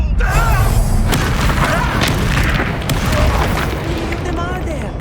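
A Bombarda explosion spell goes off in Hogwarts Legacy with a loud, sustained booming blast and rumbling debris, dense and close, amid spell-casting effects.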